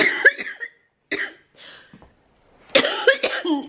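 Several bursts of coughing, close by, a couple of hacking coughs, a pause with softer throat sounds, then a louder cluster of two or three coughs.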